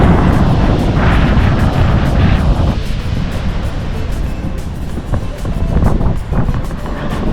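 Strong wind at a beach in Madeira buffets the microphone with loud, continuous low rumbling, while ocean surf washes underneath and gusts rise and ease throughout.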